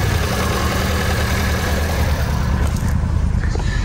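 American supercar engine running rough and missing on some cylinders, a loud close idle with an uneven, stumbling throb that continues for the whole clip.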